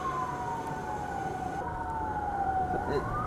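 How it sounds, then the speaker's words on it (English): Wailing emergency sirens sweep up and down steadily on a busy night in Iowa City, carrying a continuous layer of city traffic rumble beneath them. "are a lot of sirens, I know."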